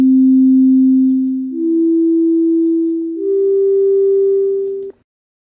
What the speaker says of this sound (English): You can even listen to a function in Sketchpad